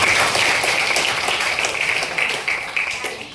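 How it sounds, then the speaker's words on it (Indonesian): Classroom audience applause during a school guidance session, a dense, steady wash of many hands clapping close by, loud at first and tapering slightly toward the end, with no talk over it. "Beri tepuk tangan dulu."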